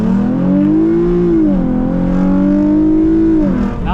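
Sport sedan under hard acceleration with VVTi engaging, engine note climbing steadily in a loud, continuous rising drone, briefly dipping as revs reset before pulling up again, heard from inside the car.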